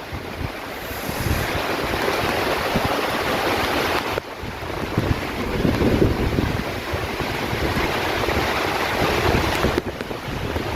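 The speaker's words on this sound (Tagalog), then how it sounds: "ito na nga po yung bagyo at dumadaan na po sa amin dito sa Laguna yung bagyo" Typhoon wind and rain batter Sta. Cruz, Laguna, in the Philippines, a dense, continuous roar with gusts rising and falling and heavy buffeting against the microphone, no voices present.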